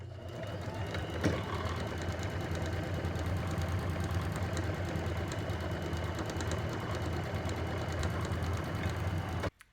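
A sewing machine stitching two-layer fabric masks, a steady close mechanical whir running nearly unbroken for the length, with faint clicks, stopping at the end.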